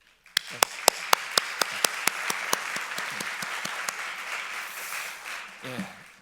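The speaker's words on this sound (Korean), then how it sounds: "저희가 박수하겠습니다" Congregation at a school chapel service applauding: a few sharp, evenly spaced claps build into a sustained wave of clapping from the room, with a voice briefly speaking near the end.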